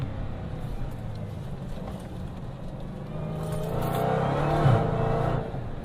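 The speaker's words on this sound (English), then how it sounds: "Flying up to this sharp left-hander, flick a few downshifts." Dodge Challenger Hellcat engine braking hard into a sharp left-hander, a low rumbling roar that climbs with revving blips through several quick downshifts, loud and close from inside the car.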